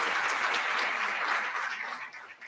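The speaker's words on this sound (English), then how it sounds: "big round of applause to the Scouts from Troop 87" Audience applause for Scouts of Troop 87 and a city fire department honor guard at a State of the City event, steady dense clapping throughout that starts to thin out near the end.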